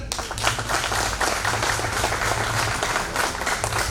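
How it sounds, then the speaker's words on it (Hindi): Steady applause from a crowd, dense clapping that holds throughout at an even level with no talking over it. "तो एक जोरदार ताली हो जाए"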